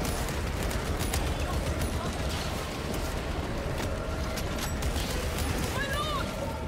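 Video-game gunshots crackle through a dense, noisy battle mix: rapid scattered bangs over a constant rumble, with voices speaking over the action.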